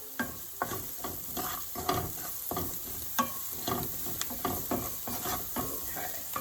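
Fresh tomato stirred in a hot pan while cooking stuffed eggplant rolls in Sicily, a steady sizzle broken by repeated scraping stirs at an uneven rhythm, close and fairly loud with no voices.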